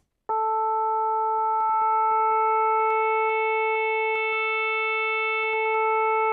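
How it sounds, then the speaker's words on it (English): A steady synthesized sine wave tone from a Yamaha SY77 synthesizer starts abruptly and holds at an even pitch with faint overtones, sustained and unbroken with no voices. "First, we start with a single sine wave."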